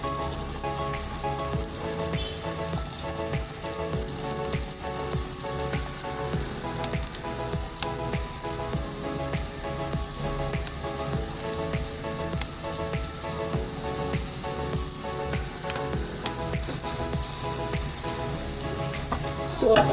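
Pancake batter fries in a hot pan with a steady, dense sizzle that crackles evenly and close throughout, with faint tonal background sounds underneath.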